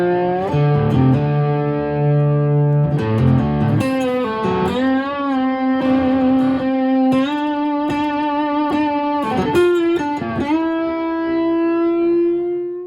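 Weissenborn-style acoustic slide guitar, a copy of a 1920s instrument, played through distortion: sustained, gritty overdriven notes with gliding slide pitch bends, loud and alone without any voices.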